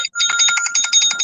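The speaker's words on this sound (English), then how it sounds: "there go my work phone again." A work telephone rings with a bright, steady electronic warble, pulsing in quick repeated bursts after a brief gap at the start, loud and close with no talk over it.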